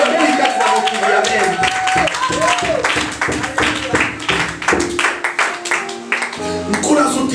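A congregation claps steadily at a Sunday church service, under voices and musical tones that run throughout.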